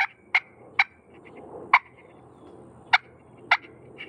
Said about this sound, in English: You could do a cluck right here too on the tip.